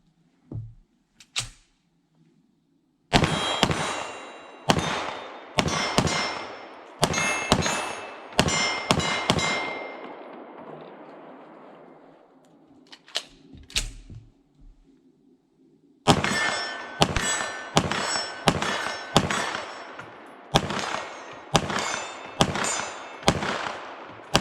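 A CZ Tactical Sport 2 pistol fires rapid strings of shots at steel plates set at 15, 25 and 40 yards. Each shot brings a sharp metallic clang. A quick burst comes first, then a lull, then a longer, steady run of hits.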